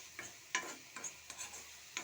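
A utensil stirs food in a pan in a home kitchen, giving soft scraping strokes roughly every half second over a faint background hiss, close by with no talking.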